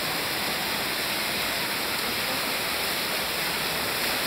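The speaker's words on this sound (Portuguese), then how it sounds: "veio dar aqui nessa cachoeirinha, maneira" A small waterfall pours in a steady, dense roar of rushing water, loud and close, with no pauses and no voices over it.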